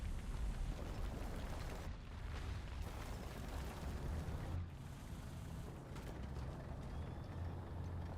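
Quick-fuse bombs going off in a War Thunder tank battle, heard as a low, fairly quiet rumbling roar that swells and dips for several seconds with no speech.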